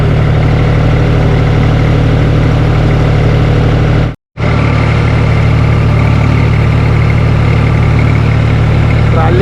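A tractor engine running steadily at close range during potato planting on a Punjab farm, a loud continuous low drone broken by one brief cut near the middle.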